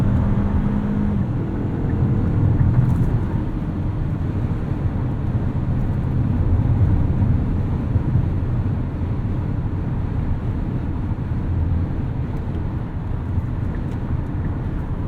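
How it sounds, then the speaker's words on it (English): A 2019 Hyundai Santa Fe Ultimate with the 2.4-liter AWD engine drones steadily while being driven hard at higher revs, a continuous loud rumble mixed with road and wind noise, no voices. "This engine does feel a little bit stressed at higher RPMs"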